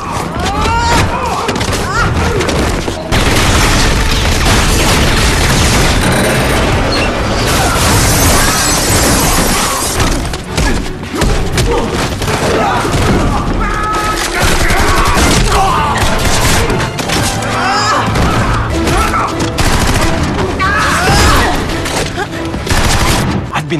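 Dense, continuous gunfire from a film battle scene as mercenary soldiers fire down on enemies below, with heavy bursts, thuds and booms layered over a loud action soundtrack.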